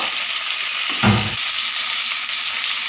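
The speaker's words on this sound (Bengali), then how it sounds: "ভালোভাবে টমেটোর সাথে আলুটা কষিয়ে নেব" Potato and chopped tomato stir-fry in a pan with a steady bright sizzle throughout, broken by one short, louder scrape-and-stir burst partway through; no voices.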